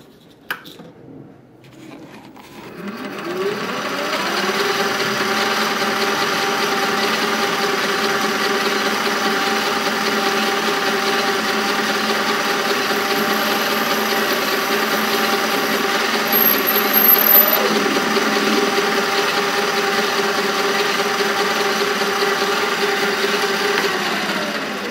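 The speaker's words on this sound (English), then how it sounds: "we're gonna do a little center drill tap right there real quick." A mini lathe runs steadily while center drilling the steel head of a machinist hammer, a loud continuous whine with a steady motor hum, starting after a quiet moment and holding through to the end.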